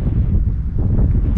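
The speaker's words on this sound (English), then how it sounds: "It's like pretty windy." Strong wind buffets the microphone during a hike on the east peak of Mount Agung, a loud, continuous low rumble with no voices.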